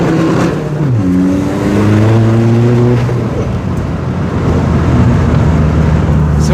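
A tuned diesel Seat Ibiza accelerating hard through first and second gear, loud close engine roar climbing in pitch, dropping at the shift, then pulling again, with no talk.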